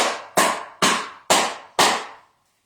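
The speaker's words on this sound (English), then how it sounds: "Bang this on the floor" A soap mold filled with hot process soap is banged on the floor five times in an even rhythm, each sharp thud ringing briefly before the next, then silence.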